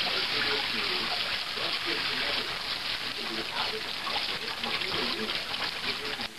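Smoked salmon fillets being rinsed lightly under running water in a colander, a steady broadband splash and trickle throughout with no pauses.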